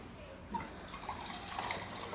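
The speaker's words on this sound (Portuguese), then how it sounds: "Vou despejar a água." Cold water from a filter is poured into a bowl for rustic three-cheese bread dough with basil and salami, a quiet, steady trickle and splash heard close up, with no talking.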